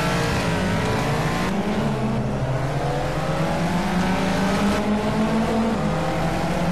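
A Caterham sports car engine, right-hand drive, revs and accelerates continuously in the racing game Project Cars, its pitch rising and falling through gear changes, loud and close with no talking.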